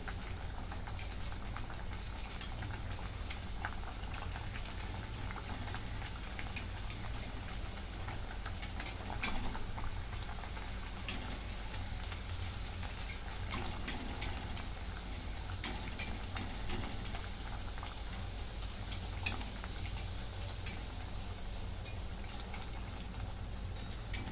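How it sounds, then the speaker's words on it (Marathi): Pumpkin ghaarge, sweet Marathi fritters, deep-frying in hot oil: a steady, dense hiss with scattered small crackles and pops that runs unbroken for the whole stretch, fairly quiet and with no voices. "आता अशा सर्व तळून घेते"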